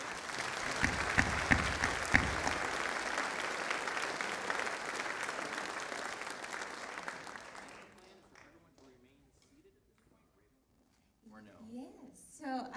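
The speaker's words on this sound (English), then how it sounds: "if I could have another round of applause for our attorneys here today" Audience applause at a state supreme court community event at a college, honouring attorneys: sustained crowd clapping for several seconds that fades out, then a stretch of quiet before people talk.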